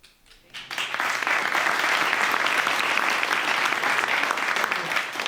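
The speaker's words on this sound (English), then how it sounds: "And now please keep that clapping going for your next speakers from Enduro Industries." A startup pitch event crowd bursts into steady, dense applause after a short quiet start, sustained and loud for several seconds with no voices.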